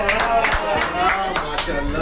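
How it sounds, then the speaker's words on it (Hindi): Audience clapping at an after-office fun gathering, a dense continuous patter of hands with a few louder claps poking through. "जो जितना जोर से ताली बजा रहा है ना उतना रिलेट कर रहा है"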